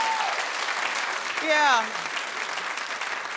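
A television talk-show studio audience claps in a steady, dense wash of applause, with a voice speaking briefly over it in the middle.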